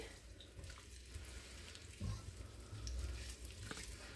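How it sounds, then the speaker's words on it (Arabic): Diced onion frying in hot vegetable oil in a pan while being stirred, a steady close sizzle with occasional scraping stir noises, no voices. "الزيت حمي بدي اضيف عليه بصلة طبعا فرميتها مكعبات. هلا بحركها شوي"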